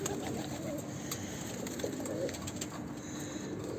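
Soft, low cooing of pigeons repeats through a noisy outdoor background, fairly faint and close.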